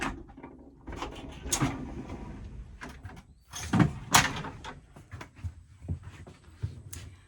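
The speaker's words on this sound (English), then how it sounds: "We go ahead and close this door." An interior door in a Thor Quantum M-29RQ motorhome is pushed shut, with several sharp knocks, latch clicks and rattles spread over a few seconds, close and moderately loud in a quiet room.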